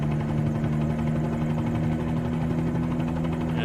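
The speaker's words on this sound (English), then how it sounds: "There's that thumping sound you get from dual bladed props." A Bell 47G helicopter's twin-bladed rotor thumps steadily over a constant engine drone, loud and close, on a sightseeing flight over Toronto.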